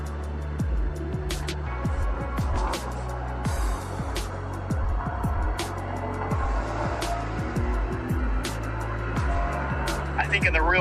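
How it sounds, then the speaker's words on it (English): 2023 Toyota GR Corolla with its four-cylinder turbo engine, revving in a rapid series of rising and falling pulls with sharp shift blips, close and loud, under scattered clicks and a speaking voice. "4-cylinder turbo makes such a unique noise."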